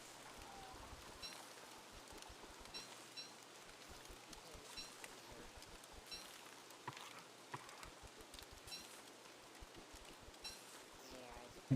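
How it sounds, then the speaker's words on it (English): Steady rain falling in Elden Ring, a soft, continuous patter of drops with light scattered splashes, faint and distant throughout, with occasional quiet voice underneath. "I believe the big tree also protects me from the rain"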